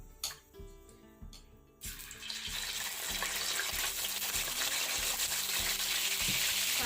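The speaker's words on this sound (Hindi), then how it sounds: "अब मैं वेजिटेबल फ्राई कर लेती हूँ। सबसे पहले चिकन" Chicken pieces frying in a pan for a chicken vegetable noodle dish: after a few opening clatters and stirs, a loud, steady sizzle starts close by and keeps going, with the spatula scraping and tapping now and then.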